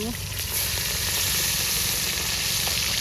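Pieces of fresh river rui fish sizzle steadily in hot oil, a dense, continuous frying hiss that stays loud and close throughout.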